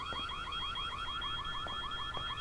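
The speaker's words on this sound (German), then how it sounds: "Das ist ein Eindringling in der Schule, deswegen ist der Alarm losgegangen." An intruder alarm blares in a school in the video game White Day, a steady, rapidly warbling electronic siren that repeats without pause and is heard alone.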